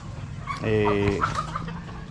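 Young chicks on wet feed cluck and peep close by in a short burst, with a louder rooster-like call in the middle and soft farmyard chatter around it.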